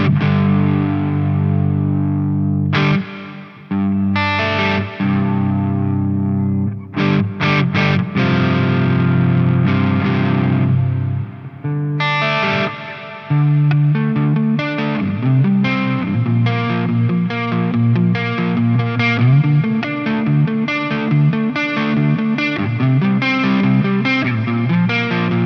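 Electric guitar played through a Neunaber Expanse reverb effects pedal, with a steady run of sustained chords and picked notes whose tails ring out and overlap, loud and close, with brief pauses between phrases.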